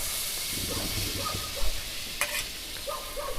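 Butter sizzles and fries in a kadai for beetroot butter masala, a steady hiss with occasional spoon scrapes and light clinks against the pan, close and continuous.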